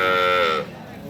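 A calf at the Aftabganj cattle market gives a single loud, close moo lasting about half a second, then fades into the murmur of the market.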